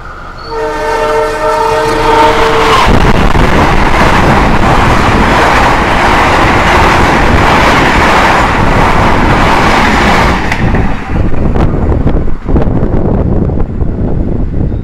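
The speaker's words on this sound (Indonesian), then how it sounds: "itu tadi barusan kereta api Gajayana sudah menyusul kereta api Kahuripan yang saya naiki" The Gajayana express train roars past at speed beside a moving train, a loud sustained rush of wheels and wind, opening with a long blaring horn before the noise thins out.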